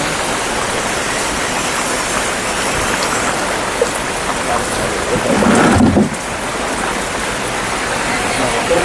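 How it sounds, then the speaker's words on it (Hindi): Heavy rain pours down in a strong storm, a loud, constant hiss close by, with a deep rumble of thunder swelling for a moment midway. "यार बहुत तगड़ी बारिश हो रही है।"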